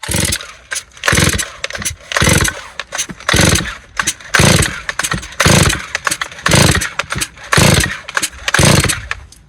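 A Husqvarna 136 or Stihl 023c chainsaw on full choke is pull-started about a dozen times in a steady rhythm, each loud cord rasp separated by brief pauses, without the engine catching.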